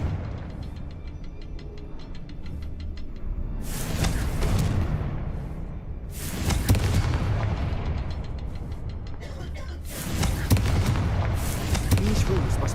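Repeated Confringo spell blasts in Hogwarts Legacy, three heavy booming bursts spaced a few seconds apart, each trailing into crackling rumble, with faint game ambience between them.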